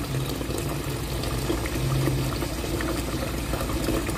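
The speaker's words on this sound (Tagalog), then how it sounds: "Lagyan natin ng tubig." Water is poured into a cooking pot in a home kitchen, making a continuous splashing, filling rush that holds steady at close range for the whole stretch, with no voices.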